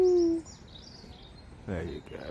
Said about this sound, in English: These are the spectacled owls.